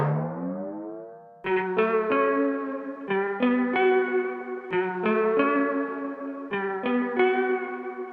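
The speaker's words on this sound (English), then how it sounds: "See how that delay widens things out." Synth music from a mono signal plays with a delay effect: repeated chord stabs in a steady rhythm, each trailing an echo, after a gliding opening swell, heard alone without talk.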